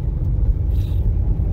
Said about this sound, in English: I'm driving my car around right now.